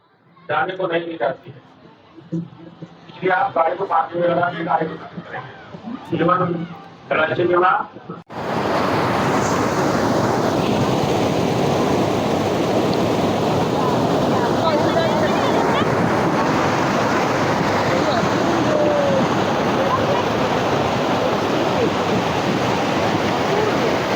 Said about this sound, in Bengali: দেখুন কিভাবে ফলস থেকে জলগুলো পড়ছে